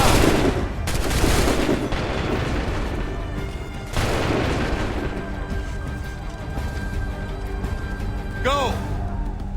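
Gunfire volley and booms in an Assassin's Creed battle scene, dense loud bursts of shots and impacts filling the whole stretch, with shouted voices mixed in and a rising whistle near the end.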